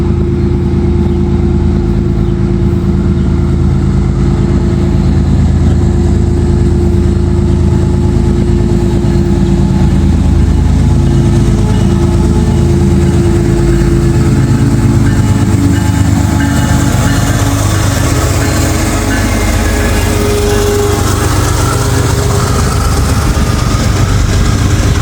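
Freight train locomotive I-142 rumbles loudly past a railroad crossing, a constant heavy drone of engine and rolling wagons that holds for the whole stretch and shifts in tone as it goes by, with no voices.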